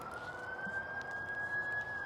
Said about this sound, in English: Do you guys hear that in the background? There's an ambulance running crazy.